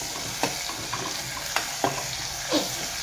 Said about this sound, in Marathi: असं हलवल्यानंतर आपल्याला पहिले टाकायचे कांदे हे बघा कांदे